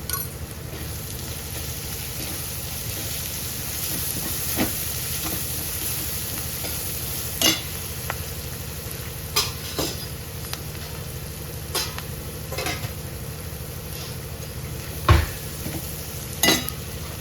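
Dal and green chillies sizzling and sautéing in a pan, a steady frying hiss throughout with occasional scraping clinks of a spoon stirring against the pan.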